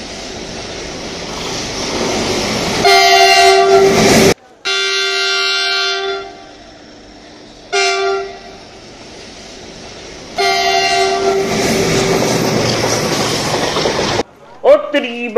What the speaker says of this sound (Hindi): ट्रेन आ रही है, रुक लो थोड़ी देर।